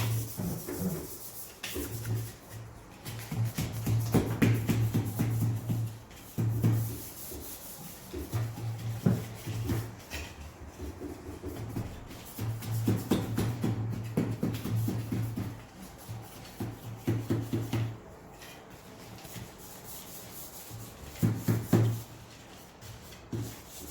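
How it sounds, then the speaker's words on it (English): A cake smoother rubs repeatedly across the icing of a building-style cake, giving soft scraping strokes in an uneven rhythm with short pauses between passes. "I'm just going to smoothen with my smoothener."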